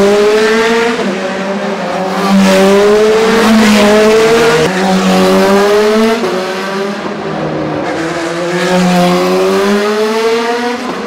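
IndyCar race cars on the Honda Indy Toronto street circuit, engines roaring loud and close through the corners with rising and falling pitch as they brake and accelerate, several cars passing in steady succession with faint tire squeal.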